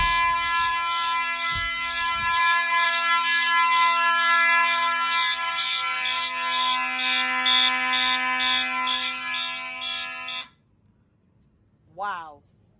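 A vintage Simplex fire alarm system sounds loud and continuous, a steady horn-like blare with a pulsing tone that runs for about ten seconds and then cuts off, followed by a brief voice.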